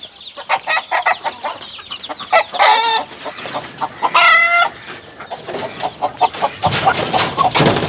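Several native country roosters in a small backyard poultry yard cluck in quick repeated bursts, with two clear crows rising above the nearby, loud clucking.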